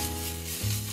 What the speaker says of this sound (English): I'm trying to heat everything up just a little bit, not too much.